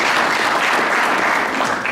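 Steady, loud applause from a banquet crowd fills the room, many people clapping together without pause and only slightly easing at the end.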